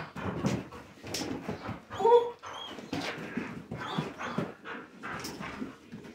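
Large dog on a flirt-pole training session, whimpering and yipping in short bursts mixed with heavy panting, close and moderately loud.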